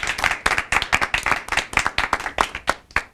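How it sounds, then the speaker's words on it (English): Steady applause from a small audience, a dense patter of hand claps close by that fades out at the end. "Big round of applause to them"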